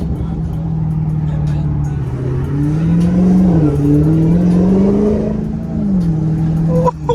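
A Dodge SRT8 muscle car revs hard while its wheels spin, the engine note climbing and wavering steadily up close, with a person talking and exclaiming in the cabin.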